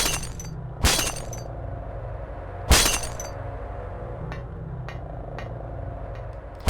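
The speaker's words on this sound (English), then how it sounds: "There's nothing in here except for the sound of breaking glass somewhere off to the left side." Glass shattering in the Silent Hill video game inside an eerie hospital room, two sharp loud breaks about two seconds apart followed by scattered tinkling fragments over a low droning ambience, with a final crash at the end.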